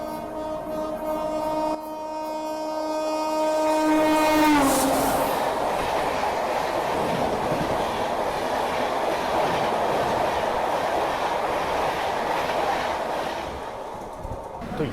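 The Vaishali Superfast Express passes the Avadh Assam Express on an Indian railway line, sounding a long multi-tone horn that cuts off into a loud, steady rushing roar of passing coaches with rhythmic wheel clatter.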